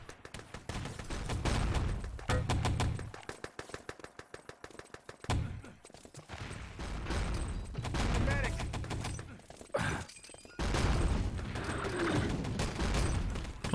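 Rifle and weapon fire in the Enemy Territory shooter on the Malibu map, rapid bursts of sharp shots and mechanical clatter in clustered volleys with brief gaps, loud and close.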